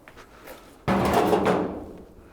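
A single sharp metallic knock of a hammer on a 1935 Hudson Terraplane door panel, followed by a short resonant ring that fades out over about a second.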